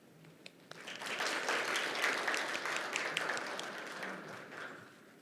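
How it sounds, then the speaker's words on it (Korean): Audience applause welcomes the keynote speaker, a chief judge and head of a unification law research society, at a 2022 judicial policy symposium. Dense clapping swells after a moment and holds steadily at moderate loudness. "기조 발표를 해주실 김영률 회장님을 큰 박수로 환영해 주시기 바랍니다."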